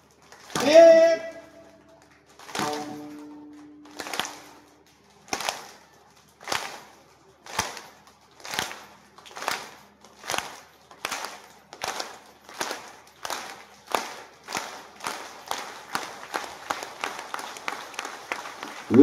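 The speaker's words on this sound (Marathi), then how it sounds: "माझ्या बरोबर एका तालात टाळी वाजवायची का?" Audience at a Marathi kirtan clapping in unison, sharp single claps that start spaced out and gradually speed up into a steady, quickening rhythm, with a brief voice at the start.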